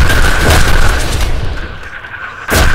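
Heavy video-game gunfire in a World War 3 shooter, loud repeated booming shots close up, a brief lull, then another sharp blast at the end.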